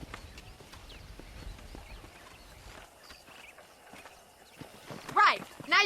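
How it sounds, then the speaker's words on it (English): Horses clip-clop and whinny during wrangling in Red Dead Redemption, scattered hoofbeats over outdoor ambience, with a loud neigh rising near the end. "Let's see if we can't wrangle some horses"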